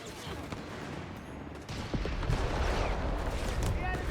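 Artillery fire in Company of Heroes 3, an Afrika Korps versus US Forces match. It is heard as a rumbling, steady barrage that swells midway and keeps going, with a commentator talking over it.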